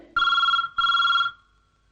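A telephone bell rings in two electronic bursts, each about half a second long with a short gap between them, loud and close, with no voices.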